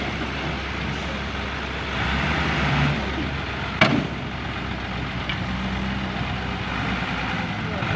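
An old long-nose Isuzu truck rumbles hard through soft mud, its engine a steady, close roar broken by one sharp bang partway through.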